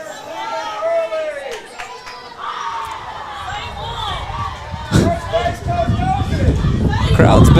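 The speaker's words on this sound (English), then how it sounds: "Got a lively crowd over here." A lively crowd at a Pine Tree vs Spring Hill district softball game: a steady babble of many voices with scattered shouts, swelling louder toward the end.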